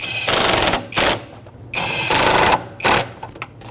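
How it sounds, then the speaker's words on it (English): Two 10mm-headed bolts are snugged down with a ratchet or power driver on a 2011-2016 Ford F-350 6.2L V8 while knock sensors are replaced, heard as several loud, close mechanical whirring bursts separated by short pauses. "So drop in the two 10mm headed bolts. Snug them up."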